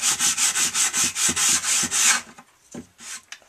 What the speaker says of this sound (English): Just sand the helmet smooth.